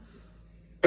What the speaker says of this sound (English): that's a really strong cough